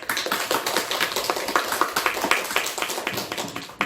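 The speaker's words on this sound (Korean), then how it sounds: "오늘 이해가 되시면 하나님께 영광의 박수" A church congregation claps together after a sermon, a brisk run of dense, close handclaps with a quick, uneven rhythm lasting a few seconds.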